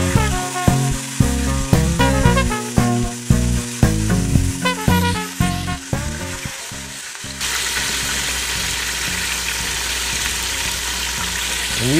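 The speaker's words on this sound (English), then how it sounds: "the real hard sizzling that you hear is just water coming out of the fillet" Fish fillets fry in hot oil, breaking into a loud, steady crackling sizzle once a stretch of bright, rhythmic music ends partway through.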